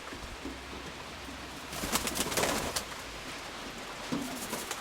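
Pigeons in a loft coo softly amid noisy background rustle and brief flutters, with low burbling calls surfacing faintly near the start and end.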